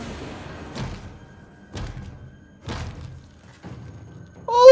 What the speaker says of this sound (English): You just bashed that guy's brains in!